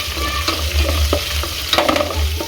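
Onions sizzle in a pan with paprika chili, a close, loud frying hiss with frequent spatula scrapes and clacks as the mixture is stirred, and no voices over it.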